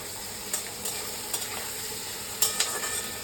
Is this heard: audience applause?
no